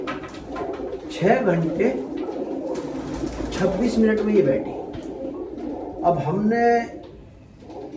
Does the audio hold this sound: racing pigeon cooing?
yes